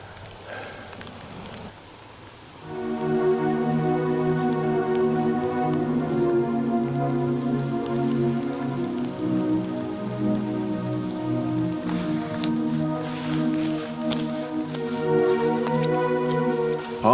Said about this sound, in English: And even the rain doesn't spoil it